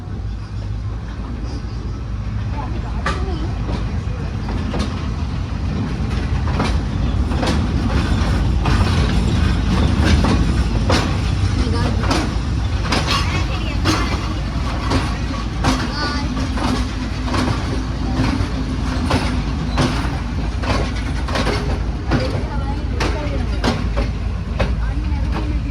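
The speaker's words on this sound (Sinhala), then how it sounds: "ඉතින් ඔයාලට පෙන්නන්න මේ තියෙන බඩු කෝච්චිය" A freight train passes close by with continuous rumbling and repeated rhythmic clanking and rattling of wagons over the rails, steady and loud throughout.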